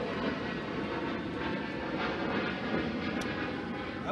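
An airplane passes in the distance at a plane-spotting location, heard as a faint, steady broadband roar that holds evenly with no clear peak and no voices.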